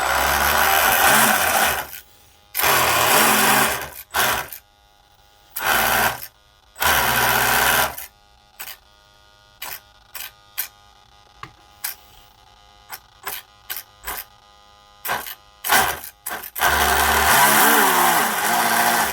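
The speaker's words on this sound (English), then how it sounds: "So we're going to spin it up." Twin brushless motors on an RC drag boat spin up in loud, close whining bursts, first in several long runs, then in a series of short blips, ending in a final sustained run.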